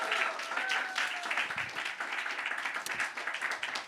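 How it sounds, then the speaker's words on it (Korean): Church congregation applauding during a Sunday service for a middle schooler finishing a discipleship course, a steady patter of clapping that thins out toward the end. "우리 모두에게 큰 박수 주십시오."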